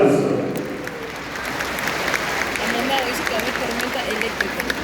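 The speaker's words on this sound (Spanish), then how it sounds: "Pérez Sayago, secretario general de la CIE, para quien pido una vez más un fuerte aplauso." Audience applause at a Global Education Pact event in a hall, loud sustained clapping from a large crowd lasting several seconds, starting right after a voice and continuing steadily.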